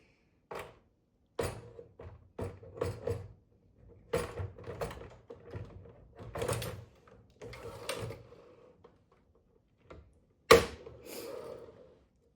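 A knitting machine carriage being moved back along the needle bed, a series of close mechanical clacks and sliding rattles in short irregular bursts separated by silence, with one sharper knock near the end.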